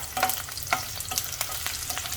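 Green garlic tops frying in hot oil in a pan for a Sindhi potato dish, a steady close sizzle with scattered stirring scrapes and light crackles, with no voices.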